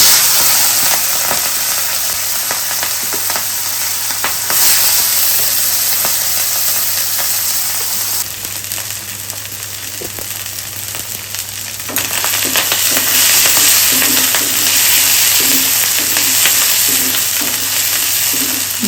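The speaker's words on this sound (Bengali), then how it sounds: "ভালো মতো তেলে ভেজে নিতে হবে" Pieces of dried shark fish fry in hot oil in a black wok. A steady, loud sizzle runs throughout, broken by scraping stirs, with no voices.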